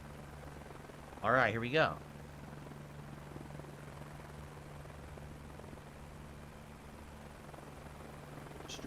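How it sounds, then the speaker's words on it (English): A steady helicopter drone fills a video game scene while the player steers the chopper against wind resistance, a constant whirring hum throughout with a brief spoken line near the start. "I'm trying to control the chopper, and it's getting wind resistance"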